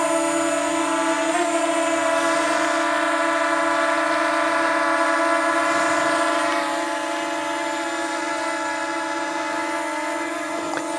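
DJI drone lifting off, its propellers giving a steady loud high-pitched whirring whine with strong tonal harmonics that holds level for the whole stretch, without any voices.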